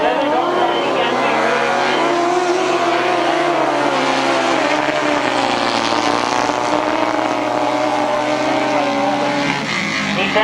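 Grasstrack sidecar outfits race at the 1992 British Masters qualifier, with engines roaring close and loud in a continuous rising and falling whine while a commentator talks over the noise.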